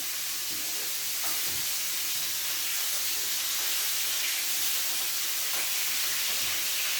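Steak sizzles in a pan with butter and garlic, a steady loud hiss of frying with faint spatters and a few soft knocks underneath.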